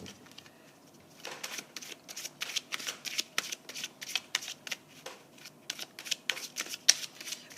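Red tarot cards being shuffled for a love reading, a quick run of crisp riffling and flicking bursts that repeats steadily throughout, close up and alone with no talking.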